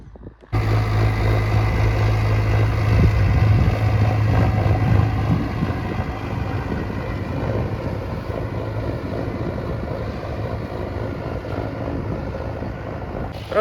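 A Mahindra Arjun 605 diesel tractor runs steadily while ploughing a field, with a loud, continuous engine drone and low rumble, heard up close with wind buffeting the microphone.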